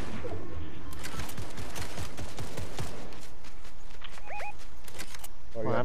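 Rapid bursts of gunfire crackle in a video game shootout, mixed with game sounds, while a player talks over the action.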